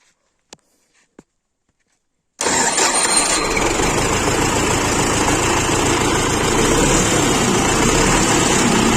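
A YuMZ tractor engine fitted with a new starter cranks and catches after a few light clicks and knocks in near silence, then settles into a loud, steady close-up diesel idle.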